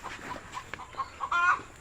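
A hen clucks softly in short, scattered bursts, close by and fairly quiet, with one slightly louder drawn-out cluck near the end.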